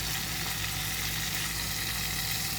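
Food simmers in a hot pan on the stove with a dense, continuous sizzle and crackle, loud and close and steady throughout, with no talking.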